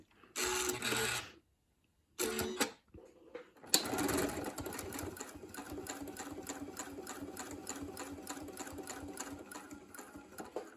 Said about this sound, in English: So we're going to sew that 1/4 inch seam allowance